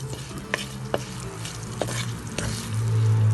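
Spices being stirred in a frying pan for a Kerala-style yellow fish curry, giving a few soft scraping strokes over a steady sizzle that grows louder toward the end.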